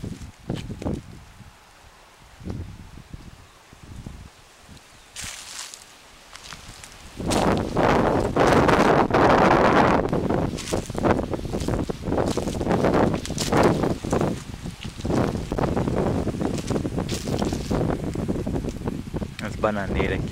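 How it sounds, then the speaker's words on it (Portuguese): Strong wind gusting across a mountainside with banana plants at a small rural house in Guaranésia, Minas Gerais; quieter rustling at first, then a loud, sustained roar of buffeting wind that stays heavy, with someone talking early on. "Ventando bastante hoje."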